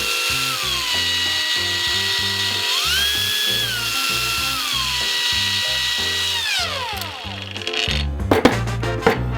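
A GRAND cordless angle grinder whines steadily, its pitch stepping up and down between its three speeds, then winds down as it stops, leaving some clattering.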